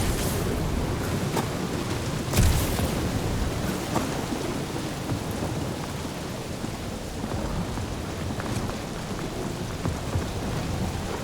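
A steady thunderstorm in the Guardians of the Galaxy video game: dense, loud rain on surfaces throughout with rumbling thunder and a sharp crack near the start, with no voices.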